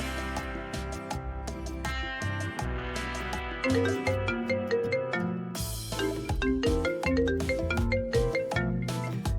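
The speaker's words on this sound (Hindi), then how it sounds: "देखिए भाई, किसका फोन आ रहा है?" A melodic phone ringtone plays continuously, a bright, busy electronic tune repeating its phrases at steady volume, with no one talking.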